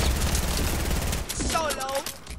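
Rapid gunfire rattles in a shooting video game, a dense burst of automatic shots close and loud, followed by a fading tail while a voice talks over it.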